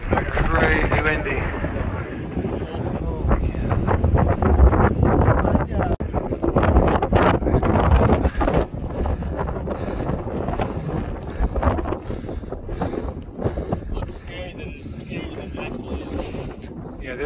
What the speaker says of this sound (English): But crazy windy.